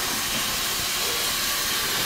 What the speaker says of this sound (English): Run the shower here for a little bit.